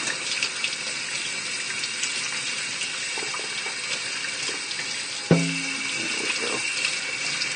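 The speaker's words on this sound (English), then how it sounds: "I'm going to rinse this one a little bit, just because it's a little bloody." A kitchen tap runs steadily as a skinned squirrel carcass is rinsed under the water, with a constant splashing stream and one brief sharp knock partway through.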